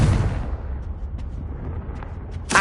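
A Confringo blasting spell explodes in Hogwarts Legacy with a loud boom that quickly fades into a rumbling tail, and a second sharp burst hits at the very end.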